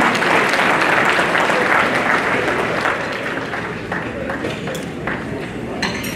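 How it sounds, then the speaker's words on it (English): Dense audience applause at an annual joint charity ball, loud and continuous, with sharp individual claps standing out before the clapping eases slightly toward the end. "give yourself a round of applause"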